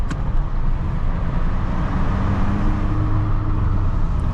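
A 2015 Mercedes S300 Bluetec Hybrid with a 231 hp four-cylinder diesel cruises on a motorway at 100-200 km/h. Its engine gives a soft, steady low purr under a constant broad rush of road and wind noise.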